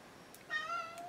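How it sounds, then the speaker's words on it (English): A house cat lets out one drawn-out, rising meow close by, short and fairly loud against a quiet room. "I'm not sure why my cat is yelling at me"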